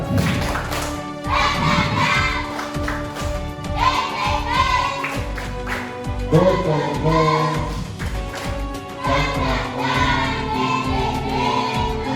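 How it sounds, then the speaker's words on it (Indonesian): Classroom of students performing a rhythmic spirit-clapping cheer in a coding and AI lesson, with loud patterned claps interwoven with children chanting and shouting in unison, close and energetic throughout. "kita tepuk semangat dulu. Tepuk semangat."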